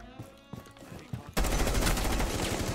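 Gunfire erupts in Rainbow Six Siege, first a few scattered muffled shots over game ambience, then a sudden loud, dense burst of rapid fire that continues without pause.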